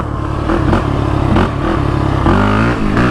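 A Can-Am DS450 quad accelerating hard in second gear, loud close engine roar rising and falling in pitch with a gear-change dip and renewed revving near the end, no speech.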